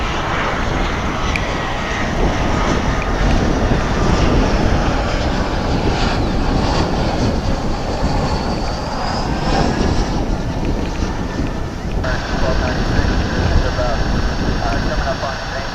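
Jet airliner at DFW Airport, a loud sustained roar of engines with a rising whine, heard alongside someone talking throughout.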